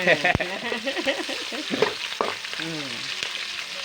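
Loud sizzling as garlic and red chili fry in hot oil, crackling and spitting throughout, with a few sharp pops and a voice talking over it.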